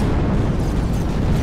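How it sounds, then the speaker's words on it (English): Explosions roar during a large fleet battle in the Executive Assault 2 video game, forming a loud, dense, continuous rumble of overlapping booms with no clear gaps. "There's so many explosions going on"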